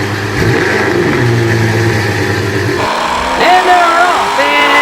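Cars launch off the line at the start of the second drag race in a Nissan summer series, engines revving loudly and climbing in pitch through a quick gear change, with a commentator talking over them.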